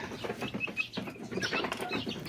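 A flock of chickens clucks and chatters continuously close by, busy overlapping calls with scratchy rustling underneath.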